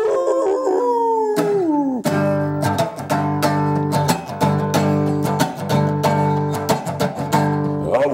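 A man imitates a wolf with a long, loud howl that glides downward for about two seconds, then steady, loud music takes over.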